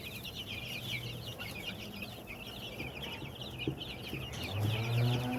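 Chickens in a nesting coop where hens lay eggs, with steady overlapping clucks and bird chatter close by, a continuous busy flock sound without talk.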